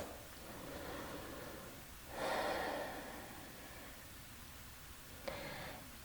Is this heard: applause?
no